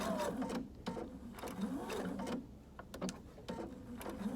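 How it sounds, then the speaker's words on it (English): A sewing machine chugs in short, rhythmic bursts while back stitching the bottom of an inner leg seam, its motor rising and falling in close, moderately quiet pulses. "as I reach the bottom, I'm gonna go ahead and back stitch this as well"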